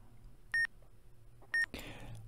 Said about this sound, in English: A high-pitched beep is a success, and a low-pitched beep is a failed solve.